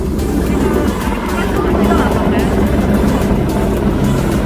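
Helicopter hovering low to scoop up water, a steady loud rotor and engine roar throughout, with excited children talking over it.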